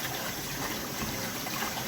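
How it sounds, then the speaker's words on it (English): Fresh collard greens rinsed in a sink under steady running water, a continuous close gush with no talking. "let's rinse these collards"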